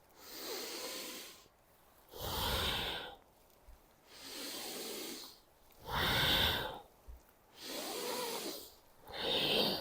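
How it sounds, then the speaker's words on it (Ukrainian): Rhythmic deep active breathing during a Kundalini yoga exercise: five long, forceful breaths close to the microphone, each a few seconds of rushing air separated by short pauses, with no talking. "тепер ваше дихання стає більш активним"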